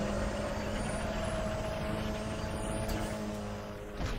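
A milk tanker truck being overtaken in Need for Speed The Run roars with a loud, steady engine drone and high whine, with brief clicks near the end and no talk.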